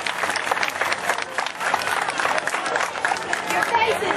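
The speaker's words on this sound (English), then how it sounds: "Have another nice big round of applause for Dave." Audience clapping fills an outdoor alligator show, dense and continuous applause with crowd murmur and a voice talking over it.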